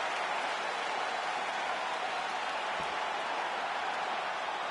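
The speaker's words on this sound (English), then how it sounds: "This crowd is going sick after what they saw in that previous round" Arena crowd in the UFC 5 fighting video game cheering between rounds, a steady, dense roar of many voices holding at an even loudness throughout, with no clear talk on top.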